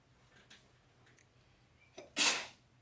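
A single loud, sharp sneeze bursts out after a few faint clicks, close by in an otherwise quiet room.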